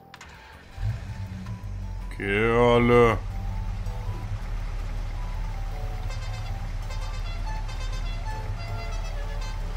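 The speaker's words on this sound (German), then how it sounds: "Motor starten" A rented vehicle's engine starts up in Farming Simulator, a short rising whine followed by a steady low engine hum that runs to the end, while someone talks over it.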